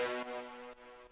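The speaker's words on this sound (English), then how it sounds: "for the mid brass, it sounds like this." A mid brass synth patch from a drum and bass drop sustains a bright, buzzy chord, re-struck twice more in quick succession, steady and upfront with no voices.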